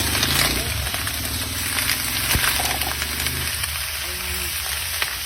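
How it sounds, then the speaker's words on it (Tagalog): Potatoes frying in hot oil give a steady, close crackling sizzle that runs throughout, with faint background rumble and brief scraping or stirring sounds mixed in. "pinirito ko muna yung patatas natin. Guys, ipa-fry muna natin ito."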